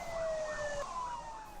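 A Korean fire truck's siren wails steadily during a 3 km emergency run to a fire, its tone sweeping up and down and sounding moderately distant over faint road noise.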